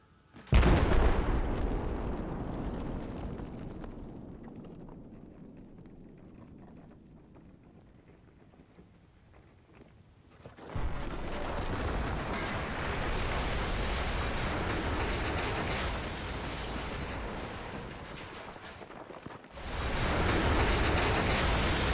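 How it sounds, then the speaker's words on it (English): In Battlefield 4, a warhead detonates and brings down a smokestack: a loud blast with a long rumbling roar that fades, then heavy crashing debris and a second surge of rumbling collapse noise, no voices. "it will detonate the warhead, which in turn brings down the smokestack"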